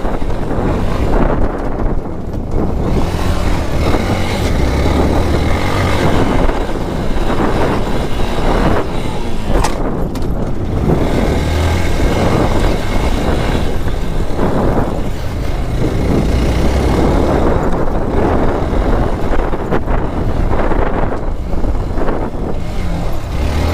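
A Hero XPulse 200 4V FI dirt bike fitted with a rally kit rides a dusty trail in Nepal's Lo Manthang area, heard as a steady, loud roar of wind buffeting over a low engine drone, with no talking.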